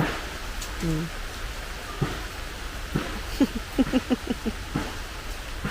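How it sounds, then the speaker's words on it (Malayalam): Rain falling as a steady, even hiss throughout, with a person talking over it. "അടുത്ത മഴയും കൂടെ പെയ്തു"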